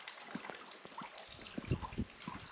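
A thin flow of water trickles down a small cascade at Jackson Falls, low in water. The splashing is faint and irregular, with soft drips and gurgles heard close by and no talking.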